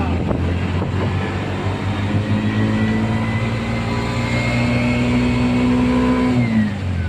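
Road traffic on a busy city street near Ortigas, a steady loud roar of passing cars with an engine rising in pitch as it accelerates, under wind buffeting.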